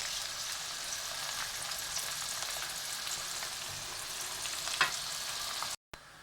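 Sausage frying in a pan for sausage fatteh, a continuous close crackling sizzle with soft pops, steady and even throughout before cutting out abruptly near the end, with no talk.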